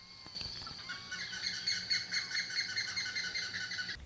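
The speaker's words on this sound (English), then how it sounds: "greeted by a calm golden morning filled with birdsong" Birds chirp and sing continuously on a calm morning in the Pantanal, Brazil, a bright, repeating high-pitched chorus, moderately close and fairly quiet.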